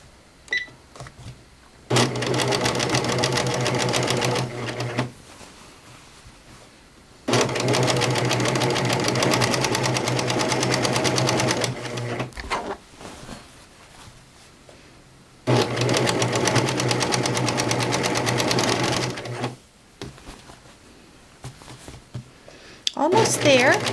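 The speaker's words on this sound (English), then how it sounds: "now I'm going to finish sewing this around" A serger stitches around the edge of a pillow, running in three long bursts of steady, loud machine whirring separated by short pauses for turning corners, with occasional quiet speech in the gaps.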